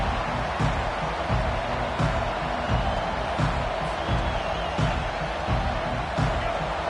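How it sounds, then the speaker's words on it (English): A football stadium crowd roars steadily, a thick, continuous wall of cheering and noise with faint rhythmic thumps and swells, no single voice standing out. "This crowd bringing the energy and noise early."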